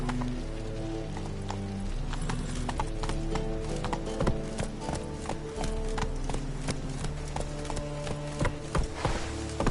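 The horse Roach gallops in a PS4 video game, its rapid, steady clip-clop hoofbeats loud and close over an unbroken rumble of movement.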